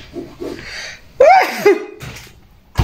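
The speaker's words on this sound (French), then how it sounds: "Je vais éternuer." A single loud, sharp sneeze bursts out after a couple of soft breaths, followed by a brief exhale and a quick thump at the end.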